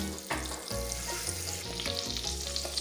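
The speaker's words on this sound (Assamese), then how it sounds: "এতিয়া মই গেছটো অন কৰি কেৰাহীখন উঠালোঁ আৰু ইয়াতে মই এচামুচ বাটাৰ দি দিছোঁ" A spoonful of butter sizzles in a wok on a gas stove, crackling close and steadily with a few soft scraping stirs.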